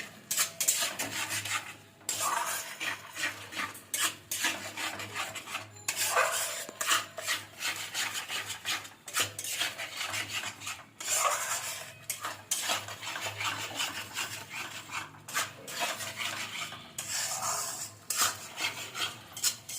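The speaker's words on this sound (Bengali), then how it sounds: "এবার আমি মশলাটা ভালো করে কষবো।" A utensil scrapes and stirs spice paste frying in a pan over a gas flame, with repeated clattering strokes and an ongoing sizzle, close and steady throughout.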